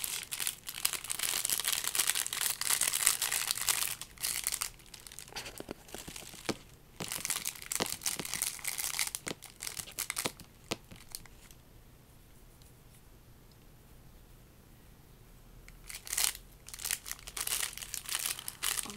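Close, crisp crinkling of a plastic cookie packet being handled, dense rustling bursts that pause briefly and then return.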